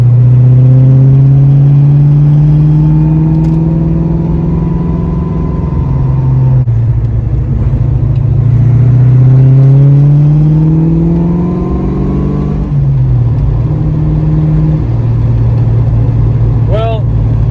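A Fox Body Mustang engine during spirited driving, rising and falling loudly through several gear pulls with strong revving sweeps, while a voice talks intermittently over it.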